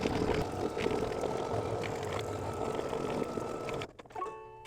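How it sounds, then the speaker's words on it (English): An embroidery sewing machine stitches the final colour of an in-the-hoop coin purse, a steady rapid mechanical whir with a fast needle rhythm running close and continuous, then stopping abruptly near the end. "And now the last color is going to stitch in."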